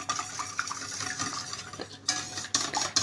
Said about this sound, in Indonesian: Kita tambah susu juga ya. Kita aduk rata.